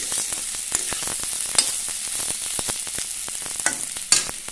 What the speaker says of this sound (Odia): ଦେଖନ୍ତୁ ପିଆଜ ମୁହଁରେ ପୁରା ଲାଲ ଲାଲ ହୋଇ ଭାଜି ହୋଇଗଲାଣି।